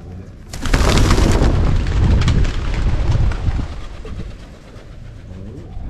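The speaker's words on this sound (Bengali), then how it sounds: "তো গাইজ দেখলে পায়রাগুলো সকাল সকাল চাল খেতে আসে।" Pigeons come to a rooftop garden in the morning to eat scattered rice. A sudden loud burst of wingbeats and flapping is followed by fluttering and shuffling close by, which gradually quiets.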